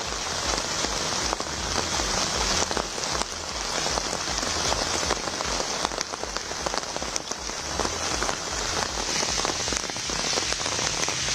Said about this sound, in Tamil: நல்ல மழை பெய்ததால் மக்களின் இயல்பு வாழ்க்கை